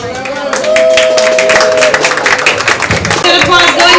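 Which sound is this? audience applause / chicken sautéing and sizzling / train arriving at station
audience applause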